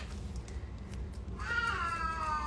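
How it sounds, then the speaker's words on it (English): An old pet cat lets out a single drawn-out meow near the end, moderately close over a quiet room hum, with no talking. "That is my cat."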